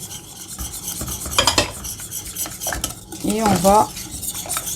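Cornflour and milk being stirred for homemade custard dessert, spoon scraping and clinking against the pot in an irregular rhythm, close and fairly loud, with a voice speaking briefly over it.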